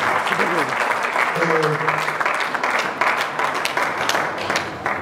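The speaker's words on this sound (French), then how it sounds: "acclamez quand même pour vous-même ce soir" An audience applauding at a Congolese tribute event in a church, with sustained clapping from a large crowd and a voice speaking over it.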